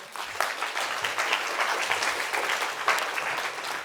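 Steady, dense audience applause filling a lecture hall, a continuous wash of many hands clapping at even loudness with no pauses.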